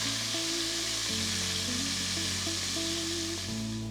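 Beef pot roast browning in a hot pan, a steady loud sizzle and hiss that runs unbroken, with a low hum of the stove beneath and no voices.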